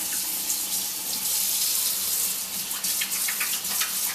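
Water runs steadily from a kitchen tap as hands are washed under it, a close, continuous hissing splash with small shifting spatters and no talk.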